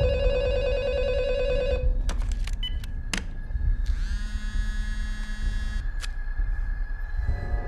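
A telephone rings repeatedly in a tense horror film scene, with sharp ring bursts set over a steady low background hum and a few clicks, near and fairly loud with no talk.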